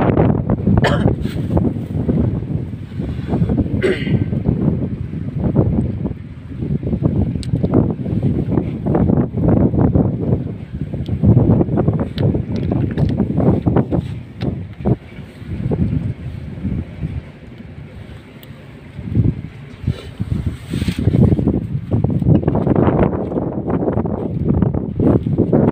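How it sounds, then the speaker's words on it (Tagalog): Strong gusts of wind on a beach buffet the microphone continuously, roaring and rumbling in uneven surges with a brief lull near the middle. "Mahangin po dito."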